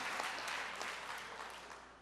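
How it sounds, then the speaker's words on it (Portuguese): Audience applause in a church meeting, a steady, dense clapping that fills the whole moment at a faint, distant level with no talk over it. "uma salva de palmas, meus irmãos"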